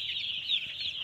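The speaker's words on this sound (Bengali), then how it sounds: "এই দেখতে পাচ্ছেন মুরগি।" A flock of broiler chickens inside a poultry farm shed makes a continuous, dense, high chirping chatter, many birds together at a steady, moderate loudness without talk.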